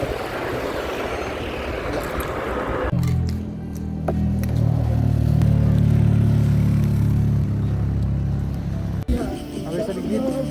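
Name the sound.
motorcycle riding on mountain road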